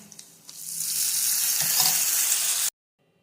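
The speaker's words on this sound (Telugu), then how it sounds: "అన్నింటిలో తాలింపు వేగింది కదండి ఇందులో రుబ్బు పెట్టుకున్న మనకు పచ్చడి ఉంది కదా ఇందులో వేసి కలిపేసుకుంటానండి" Hot oil tempering sizzles loudly and steadily for a couple of seconds, with light stirring scrapes at the start as ground white brinjal chutney is mixed in, then it cuts off abruptly to silence.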